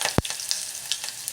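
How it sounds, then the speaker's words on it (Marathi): Mustard seeds, cumin, garlic and curry leaves hit hot oil with a sharp thump, then a light, crackling sizzle with scattered pops continues close by. "तेल तापल्यानंतर आपल्याला मोहरी टाकायची आहे, जिरे टाकायचे. त्याचबरोबर लगेच आपल्याला इथं लसूण टाकून द्यायचं आहे. कढीपत्ता पण टाकायचा"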